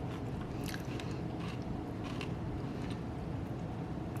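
Close chewing of a freshly made crunchy dish with celery and onion, a run of crisp bites and moist crunches repeating every half second or so, with no talk.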